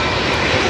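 A Boeing 777 jet airliner at Heathrow roars loud and close, a continuous, dense engine rumble with no voices.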